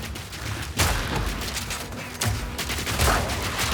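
Repeated grenade explosions from a Path of Exile 2 co-op session, a dense series of booming blasts and crackling bursts, with sharp detonations landing near one second and again around two and a quarter seconds.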